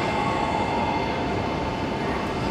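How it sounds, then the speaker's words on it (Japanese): A close, continuous rumble of a shinkansen train arriving at a platform, with a faint steady tonal hum and no voices. "20番線列車到着です。"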